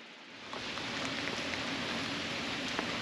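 Steady rain falling on Prince Edward Island during a camping road trip, a dense, even hiss with scattered pattering drops, close and continuous throughout.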